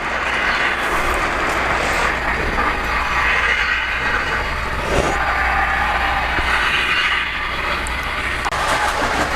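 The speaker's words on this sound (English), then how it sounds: "We have now reversed that freight train, and we're going in the opposite direction on track number 1" A Polar Express model freight train runs in reverse on the track with a continuous close rumble and whir of wheels and motor, steady throughout with faint clicking along the rails.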